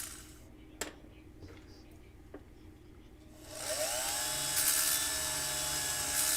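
A polishing wheel spins up and buffs silver with polishing compound, a loud, steady high whine and hiss that rises in pitch and holds, following a few quiet clicks and handling noises.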